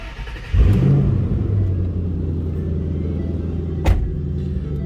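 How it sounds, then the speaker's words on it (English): A supercharged 2010 Ford Mustang Roush 427R starts up with a loud crank and catch, then settles into a steady, deep idle rumble close by, with a brief blip of revs near the end. "Let's go ahead and fire it up so you can hear it run."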